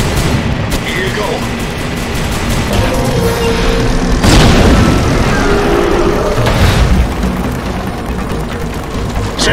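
A fuel tank blows up after being shot in the video game Rogue Trooper Redux, a loud booming blast that swells near the middle and again later over steady gunfire and battle noise.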